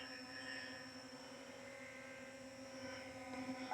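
A Veeniix V11Air drone hovers and turns in place, giving off a steady, faint high whine of propellers with a constant pitch, heard alone at a moderate distance.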